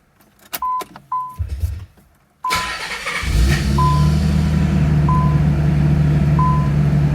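Keys jangle and click, then a Nissan 300ZX engine cranks and starts, settling into a steady idle with a periodic chime beeping over it.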